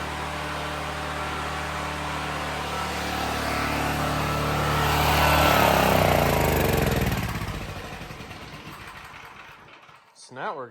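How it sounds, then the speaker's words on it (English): A small engine on a junk compressor setup runs steadily with a hot muffler, a dense loud drone that swells midway, then cuts off abruptly near the end, with voices talking over it. "That muffler sounds pretty hot."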